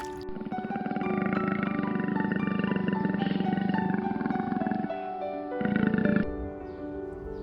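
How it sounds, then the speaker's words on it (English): A leopard growls in a long, rough, continuous rumble that pauses briefly and resumes, loud and close with no other sounds. "Leopard."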